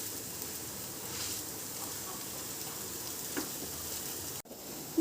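Mashed potato stirred and frying in a pan, a soft steady sizzle with faint scraping, fairly quiet and even, ending in a brief clatter.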